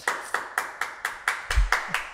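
Slow, rhythmic clapping rings out, about nine distinct sharp claps evenly spaced and close by, sounding like only a few pairs of hands rather than a large audience.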